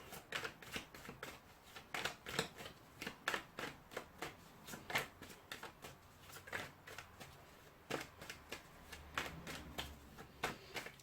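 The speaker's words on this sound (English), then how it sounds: "let's get this shuffle out of the way" Tarot cards being shuffled by hand, a steady run of crisp riffling and slapping bursts repeated every half second or so, close and fairly quiet, with no voices.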